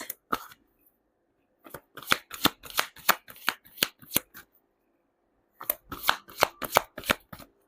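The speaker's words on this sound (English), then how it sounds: "let's pull up another set of cards" Tarot cards are shuffled close up in two quick bursts of crisp riffling flutters, separated by a short pause, with no talking.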